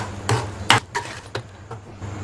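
A spoon stirs rava kesari with cashews, raisins and ghee in a pan, knocking and scraping the metal in a few sharp, close clanks with short pauses between.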